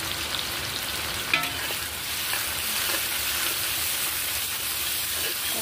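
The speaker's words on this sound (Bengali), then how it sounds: "দিয়ে পেঁয়াজটাকে আমি ভালো করে ভেজে নেব" Sliced onions frying in oil in a wok over cumin seeds, a loud continuous sizzle with stirring scrapes and one sharp clank early on, no talking.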